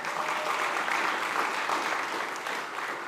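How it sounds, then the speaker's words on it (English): An audience at a food event at SXSW applauds the caterers with steady, dense clapping that holds evenly throughout, filling the room without any talk over it. "so give them a round of applause."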